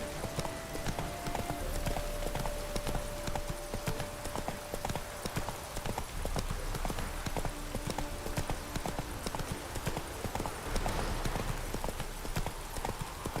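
Roach the horse gallops in The Witcher 3, steady clip-clopping hoofbeats running continuously at close range, with a faint tonal music line underneath and no talking.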